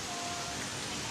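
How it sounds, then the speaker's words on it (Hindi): Rain falling steadily as a continuous soft wash of noise, close and even, with no voices. "बारिश आप लोग देख सकते हैं"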